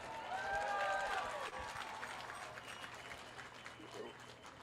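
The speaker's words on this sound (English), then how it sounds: "give that a round of applause" Audience applause at a political rally in Madison, Wisconsin: a sustained crowd clapping wash, loudest at first and easing gradually, with a few faint voices and cheers mixed in.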